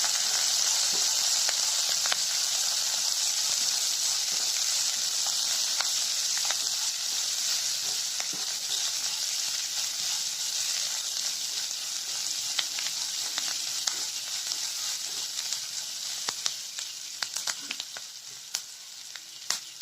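Vegetables sizzle steadily in a hot pan, a constant bright frying hiss with occasional crackles and stirring clicks throughout.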